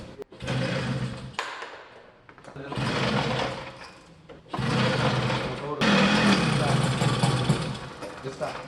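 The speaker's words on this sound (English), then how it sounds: "The gray team looks like they're ready to start their moped with the newly installed high-performance engine parts" Small moped engine fitted with new high-performance parts sputters and buzzes in repeated starting attempts, revving in bursts of several seconds separated by brief pauses, with people talking nearby.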